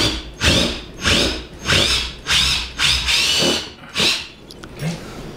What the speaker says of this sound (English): here we are drilling the pilot holes for the bolts